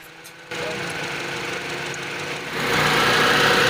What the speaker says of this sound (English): Then you start the engine.